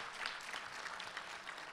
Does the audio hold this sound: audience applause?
yes